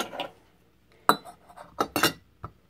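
A metal strainer set into a French stovetop espresso pot gives a few sharp, bright metallic clinks and clatters, close and fairly quiet, spaced over about two seconds with no talking.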